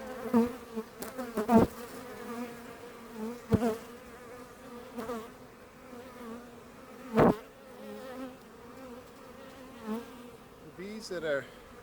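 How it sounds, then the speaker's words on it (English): Defensive honeybees buzz steadily around the hive, with sharper individual buzzes darting close and loud now and then over a dense droning swarm. "This is full of mean bees, and they're already trying to sting me."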